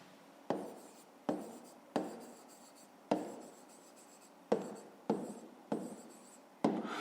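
Eight separate strokes of a pen or chalk marking out numbers by hand during a fifth-grade maths exercise, each a sharp tap trailing into a brief scratch, spaced at uneven intervals in a quiet room.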